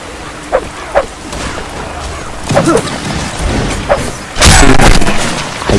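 Gunfire in the video game Mount & Blade Warband: Napoleonic Wars, with a few short distant musket cracks followed by a loud booming volley near the end, set against a steady battlefield rumble.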